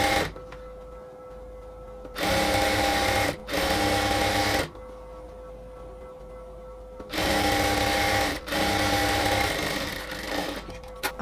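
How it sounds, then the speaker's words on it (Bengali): A sewing machine stitches a half-inch fabric border on a nighty, running in two loud, steady whirring bursts separated by quiet pauses, with a faint background hum between runs. "তো আমরা 1/2 ইঞ্চি করে দিয়ে প্রথমে একটা সেলাই দিয়ে নিচ্ছি।"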